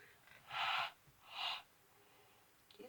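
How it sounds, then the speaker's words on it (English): Two gentle, breathy exhalations of warm breath blown close to the mic onto a small plastic toy piece, each about half a second long with a pause between, in a quiet room. "that was me very gently breathing some warm breath onto this piece right here"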